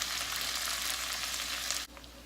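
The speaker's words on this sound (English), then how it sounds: "We need to continue mixing it so it doesn't start sticking to the pan." Honey garlic butter sauce with salt sizzles steadily in a pan over medium-low heat, a constant close frying hiss with light stirring, cutting off abruptly near the end.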